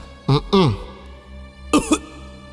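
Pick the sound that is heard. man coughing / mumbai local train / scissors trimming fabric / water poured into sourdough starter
man coughing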